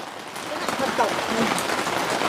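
Heavy evening rain pours down in a steady, dense hiss on surfaces around a house, with a voice speaking faintly over it.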